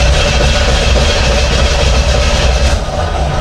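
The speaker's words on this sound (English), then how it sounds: "And I'll crank it right now, but it's not going to start." The engine of a newly bought project car cranks on the starter without catching, a loud, continuous, rhythmic churning roar that holds steady without firing up.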